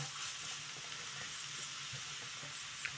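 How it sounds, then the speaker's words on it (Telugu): Sliced onions and six or seven green chillies frying in oil over a low flame for a fish curry, a steady, faint, even sizzle with light crackles throughout. "ఒక 6 నుంచి 7 పచ్చిమిర్చిని కూడా వేసుకొని ఫ్రై చేసుకుంటున్నాను"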